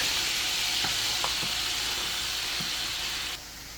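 Garlic goes into a hot pan for lamb chops, setting off a loud, steady sizzle with a few soft stirring taps, the hiss dropping slightly near the end.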